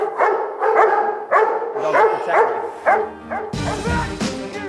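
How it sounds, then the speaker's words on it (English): A Doberman barks repeatedly during protection training, loud, close bursts in an uneven rhythm, ending in a rougher, noisier stretch of commotion. "Doberman King has to defend his master whilst risking his own life."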